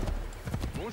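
Hooves of a stolen horse clatter briefly in Assassin's Creed III, a short burst of clip-clop close by with a faint whinny, under a voice talking.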